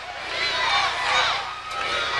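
A wrestling pay-per-view arena crowd roars and chants steadily, a dense wash of many voices swelling and dipping for a couple of seconds with no single voice standing out.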